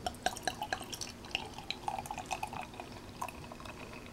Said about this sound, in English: let's get it poured into a glass